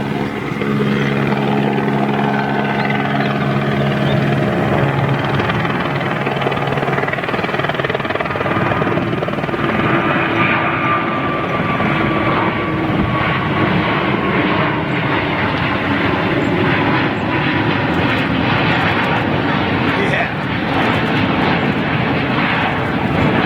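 An Airbus A350 jet airliner departs Toulouse airport with a loud, sustained engine roar that stays powerful throughout and drifts slightly in pitch as the aircraft moves.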